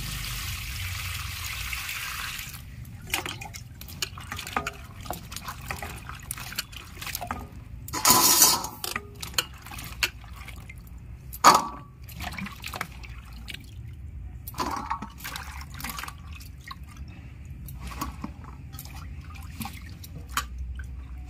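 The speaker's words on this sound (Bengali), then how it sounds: "এবার আমি সব ভালো করে ধুয়ে নেব। ভালো করে ধুয়ে নিচ্ছি।" Water splashing and dripping over cut Malabar spinach stalks being washed, with trickles, drips and a couple of louder splashes, close and intermittent.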